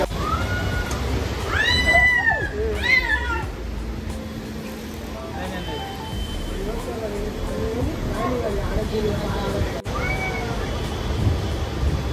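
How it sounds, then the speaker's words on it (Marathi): A stuck cat meows repeatedly, several rising and falling cries near the start followed by softer, more scattered mews, with people talking over a steady rushing background. "तुम्ही बघितलात क्लिप की ती मांजर आहे ना तिथे ना अटकलेली"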